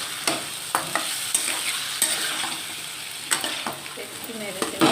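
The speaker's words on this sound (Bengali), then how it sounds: "একটু নেড়ে চেড়ে নেব।" A spatula stirs coriander powder and spices in a frying pan, with a steady sizzle and regular scraping strokes roughly every half second, close and clear, with no talking.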